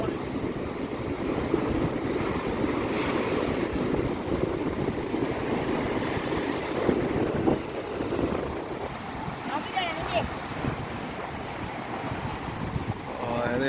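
Continuous rushing surf and wind noise roar steadily throughout as a fishing boat is launched into the sea, with faint voices and a distant engine-like hum mixed in.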